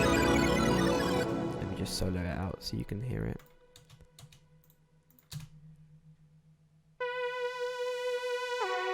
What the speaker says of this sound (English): It sounds out of space, like dreamy, alien-like